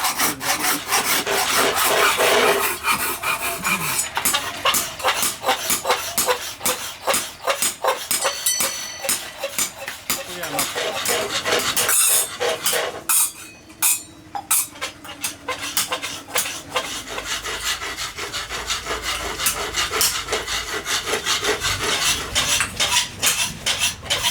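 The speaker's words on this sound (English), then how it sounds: "Another artisan keeps on polishing the brightened product by a file or rasp called reti." A brass product is hand-filed with a rasp by an artisan, giving rapid, rhythmic rough scraping strokes, close and loud, continuing steadily with a brief pause midway.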